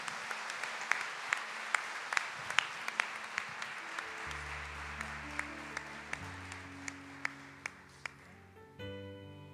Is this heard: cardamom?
no